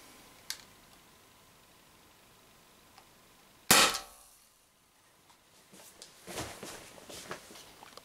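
An Umarex TP50 Compact air pistol fires a steel ball into a pellet trap, one sharp loud crack with a short metallic ring, followed by quiet handling noises.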